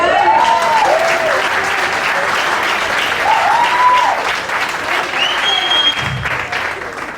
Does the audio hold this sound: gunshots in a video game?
no